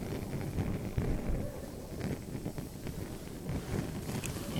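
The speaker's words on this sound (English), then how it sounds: "There's wind from everywhere." Steady outdoor wind buffets and rumbles across the microphone, a continuous low roar with gusty swells and no voices.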